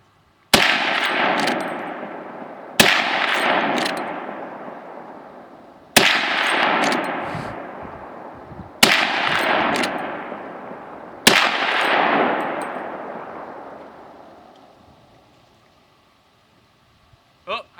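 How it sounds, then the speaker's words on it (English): A Marlin 45-70 Cowboy rifle fires five loud, sharp shots about three seconds apart. Each blast rings out and decays in a long echoing tail, followed by near silence. "Back to shooting."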